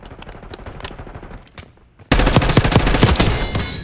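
Loud rapid gunfire erupts in the Call of Duty Black Ops 6 PC game, a dense burst of automatic fire and shots following quieter scattered game sounds and impacts.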